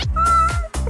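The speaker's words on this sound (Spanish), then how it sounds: "¿Hay un gato en mi habitación?" A close, loud cat meow rises and falls in a drawn-out whine, lasting under a second.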